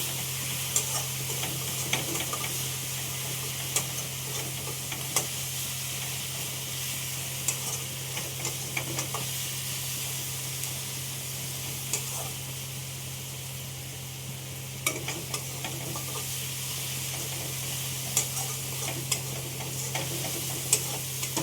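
Spices with green chillies and Kashmiri red chilli powder fry in a small amount of oil, a steady soft sizzle with frequent light clicks and scrapes of stirring and a low constant hum beneath, no voices.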